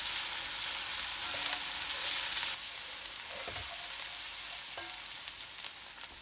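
Chopped garlic sizzles and fries in a pan, a steady close hiss with light stirring scrapes, loudest at first and then settling to a softer crackle.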